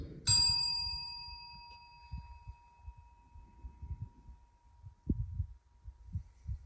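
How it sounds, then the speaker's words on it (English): A small bell tapped once in a tunnel rings out with a bright, sharp strike and a long, clear fading tone, while low, muffled rumbles and thumps continue underneath. "Can you come up and just tap this bell just like this?"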